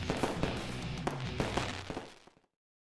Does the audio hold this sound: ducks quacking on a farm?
no